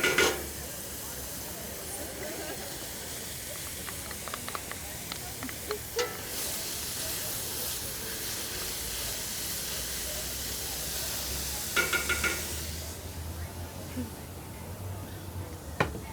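Carrots, onions, garlic and chard stems sautéing in olive oil in a pan, a continuous close sizzle and hiss with occasional stirring scrapes, under intermittent talk.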